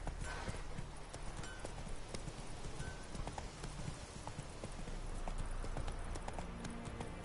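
Steady clip-clop of hooves from Geralt's horse Roach in the video game The Witcher 3: Wild Hunt, a continuous galloping rhythm at close range with brief whinny-like touches and no talk.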